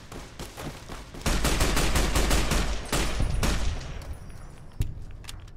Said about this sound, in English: these AP shots are putting them down